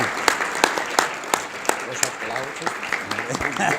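Applause from an audience at a formal closing ceremony, scattered clapping with distinct sharp claps over a steady background, heard alongside some voices.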